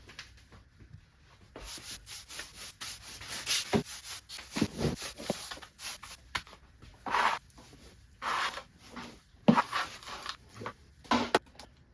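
Broom sweeping wood shavings on a workshop floor beside a wood lathe: irregular scratchy bristle strokes in uneven bursts, close and moderately loud, with no voices.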